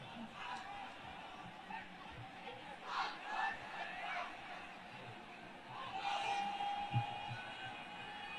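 A large outdoor crowd at a religious sermon gathering in Lalmonirhat shouts a takbir together, heard as a distant, rising roar of many voices swelling in waves.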